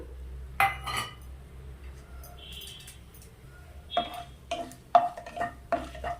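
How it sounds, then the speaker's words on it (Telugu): Whole garam masala spices (cloves, cinnamon stick, cardamom, bay leaf) drop into hot oil in a pan for a semiya pulao, with soft frying and several clinks and scrapes of a spoon against the pan. "ఈ హోల్ గరం మసాలాని వేస్తున్నాను."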